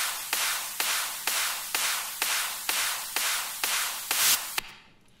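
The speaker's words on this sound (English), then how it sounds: "Together with the clap, it just creates this big wash of noise you can hear." Layered progressive house percussion: ride, crash and noise hats stacked with a clap, hitting in a steady even beat of about ten bright, hissing bursts that blend into a dense wash of noise before cutting off, with no voices.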